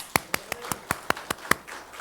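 In a church worship service, hands clap in a steady, even beat, about nine crisp, sharp claps close by over a quiet background.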